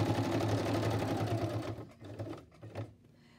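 A sewing machine stitches through paper, a fast steady mechanical whirring hum that runs, then slows into a few uneven bursts and stops.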